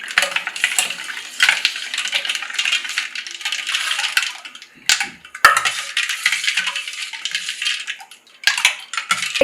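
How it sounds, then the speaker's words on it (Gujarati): Raw mango sharbat being stirred with cold water and syrup, a spoon clinking and scraping against the glass or vessel in quick, busy bursts with short pauses, close by and with no talking. "ઠંડુ પાણી નાખી આ બધી વસ્તુને સરસ મિક્સ કરી દઈશું"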